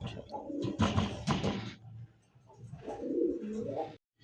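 Pink-beaked pigeons coo in two close, throaty bursts separated by a short pause, soft and low against a quiet background.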